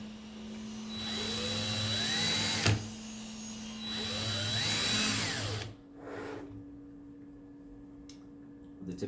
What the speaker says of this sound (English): I like to screw the screws all the way through the petal so that you can see the tips